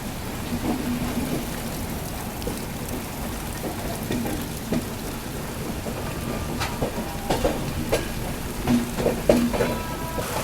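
Heavy rain pours steadily at a railway station platform, with a dense hiss of drops hitting surfaces and occasional louder splashes, and no voices.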